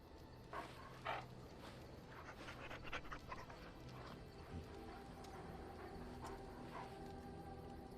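A dog in Dragon Age Origins pants steadily while being petted, with soft breathy bursts over a constant game ambience backdrop at moderate level.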